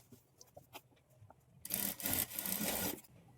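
A sewing machine stitches dots onto a blouse, starting after a few faint clicks and handling sounds with a close, rapid mechanical whirr that runs for over a second and then stops.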